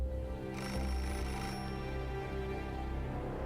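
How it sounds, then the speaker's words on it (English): A telephone rings in the video game Beholder, a steady electronic ringing tone running through the whole clip over a low, droning background hum, with no voices. "We can't miss this phone call."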